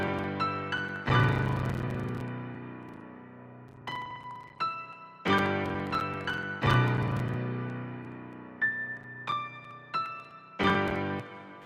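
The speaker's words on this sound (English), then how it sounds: "Then I added a grand piano," Grand piano chords in a West Coast hip-hop beat, struck in loud, rich sustained stabs that ring and decay, with lighter higher notes between them, repeating in a steady pattern with no talking.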